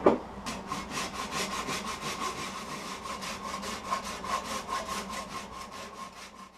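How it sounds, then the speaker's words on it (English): A handsaw cuts the corners off a wooden bowl blank in a rapid, even rhythm of rasping strokes, close and steady for several seconds with no talking. "And I'll probably have to nip the corners off with a handsaw."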